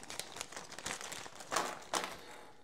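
A plastic bag holding wire connectors for a Victron GX IO-Extender is handled up close, giving crinkly rustling with a couple of sharper crackles as it is squeezed and moved.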